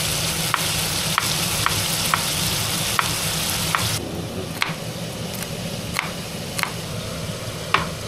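Chilli chicken frying in a pan during a Christmas dinner cook-up in Manebhanjang, with a loud, constant sizzle and occasional sharp ticks of a utensil. The sizzle drops noticeably partway through.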